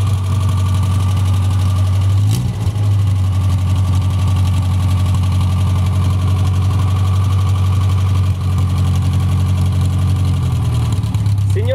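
A Fiat 600 engine idles loudly and steadily close by, a deep rumbling drone holding throughout with a brief rev near the start.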